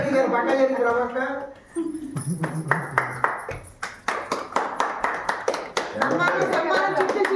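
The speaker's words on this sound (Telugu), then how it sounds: "Clap clap clap." Hands clap in a quick, rhythmic run of sharp, close slaps, with voices talking and a child-like voice before and after the clapping.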